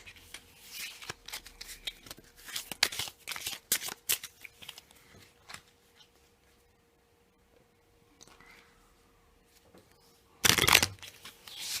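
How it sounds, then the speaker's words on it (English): Matchday cards being shuffled in with position cards for a football card game: bursts of riffling and snapping, close and crisp, a quiet pause, then one loud final riffle, with no talk. "I'm now going to shuffle in the matchday cards with the remaining position cards"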